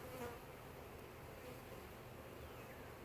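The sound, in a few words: honey bees buzzing around a hive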